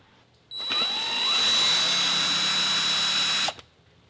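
A power driver whirs on Torx T25 screws of an MK7 GTI airbox, one continuous high-pitched spin of about three seconds, close and loud, starting and stopping abruptly.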